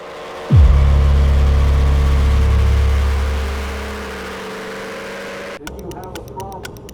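A freshly rebuilt nitro drag racing engine fires up loudly with a heavy low rumble, holding steady for a few seconds, then fading as it shuts down, after which faint voices talk in the background.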